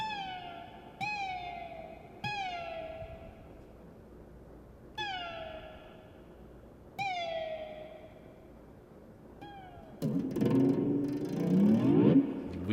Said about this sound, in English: if we did a cat noise?